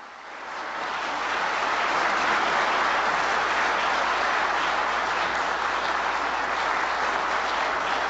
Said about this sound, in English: Applause for the President's welcome speech to Pope Francis.